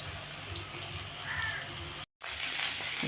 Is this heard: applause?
no